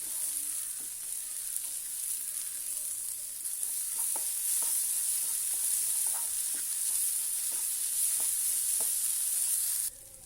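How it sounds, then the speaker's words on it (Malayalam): Onions sauté in a pan, giving a steady, close sizzle with light clinks and scrapes as they are stirred, ending abruptly near the close; no one speaks. "നല്ലോണം കളറായി വരുന്നത് വരെ വഴറ്റിയെടുക്കാം നമുക്ക്."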